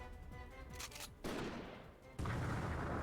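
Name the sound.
sudden gunshot sound effect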